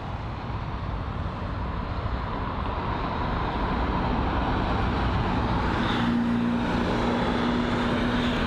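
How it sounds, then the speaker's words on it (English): An Airbus A380 airliner taxiing at London Heathrow gives off a constant broad engine rumble at close range, with a faint tonal whine rising near the end and no talk over it. "when the A380 turns up, it's just on another level"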